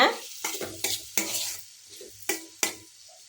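A spoon stirs coriander and sambar powder in a pan for bitter gourd kuzhambu, giving several close, crisp scraping strokes in an uneven rhythm with a faint sizzle underneath and no talking.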